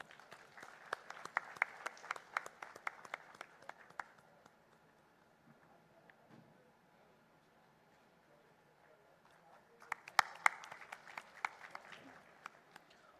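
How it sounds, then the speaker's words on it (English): Audience applause at a formal national convention ceremony with dignitaries, rising in bursts of scattered clapping, fading to a quiet stretch, then swelling again near the end, moderately distant. "Let's have a big round of applause, ladies and gentlemen."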